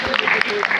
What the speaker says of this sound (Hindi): आचार्य देवव्रत जी का हम तालियों की करतल ध्वनि से अभिनंदन करें, स्वागत करें।